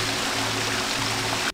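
Magic water in the stealth video game Thief: The Dark Project flows with a loud, continuous rushing hiss, like a steady stream, that cuts off abruptly at the end.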